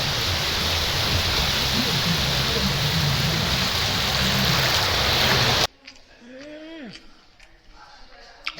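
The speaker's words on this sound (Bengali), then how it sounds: "আপনি মন্দারমণির সমুদ্র উপভোগ করতে পারবেন সমুদ্রের ঢেউ গুনতে পারবেন" Sea waves at Mandarmani beach churn as a loud, continuous rush of surf for about five seconds, then cut off abruptly to a much quieter scene where a voice is heard.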